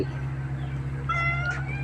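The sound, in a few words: hungry kitten meowing at a temple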